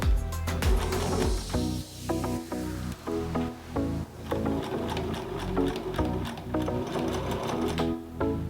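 Sewing machine stitching the seam of a homemade fabric face mask, fast rhythmic needle clatter running in short bursts with brief pauses, close and loud.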